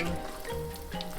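Food sizzles as it fries in a pan, a faint, steady crackle under close sounds of cooking.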